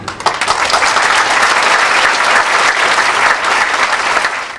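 An audience in a hall breaks into loud, dense applause at a Brabant Wallon anniversary event, many hands clapping continuously for several seconds before fading out abruptly.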